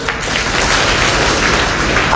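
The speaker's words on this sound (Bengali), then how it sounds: "সবার জন্য সবাই একটা হাততালি দিবেন" An audience breaking into loud, dense applause, many hands clapping together at once, steady and close for a couple of seconds.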